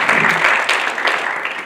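An audience at a school state-of-the-school address breaks into steady, dense applause, loud and close, sustained throughout without a break.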